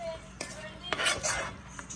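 Utensils clink and scrape against a pan while stirring frying cabbage, a few brief knocks close by over a low sizzle, fairly quiet.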